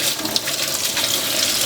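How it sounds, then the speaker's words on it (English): Water runs steadily from a kitchen tap while vegetables (green onion, garlic, onion and potato) are rinsed under it, a continuous close splashing hiss with no talk. "Rinse them in running water."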